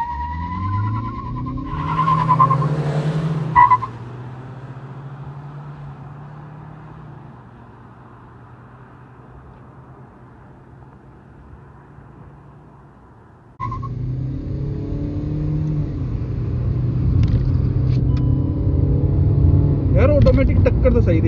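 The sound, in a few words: Kia Seltos automatic and manual cars accelerating in drag race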